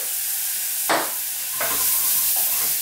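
Mushrooms seasoned with black pepper fry in a pan under a loud, steady sizzle, broken by a few sharp scraping stirs close by, with no talk.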